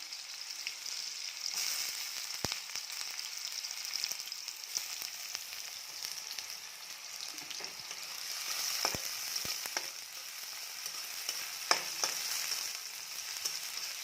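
Onions frying in hot oil for veg chowmein give a steady, dense sizzle that runs throughout, with a few sharp pops and clinks of a utensil.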